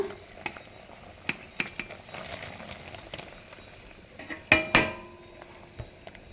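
Okra goes into a pot of simmering sambar and is stirred, giving a soft bubbling sizzle under scattered clicks and scrapes of a spoon against the pot, with two sharper knocks near the end.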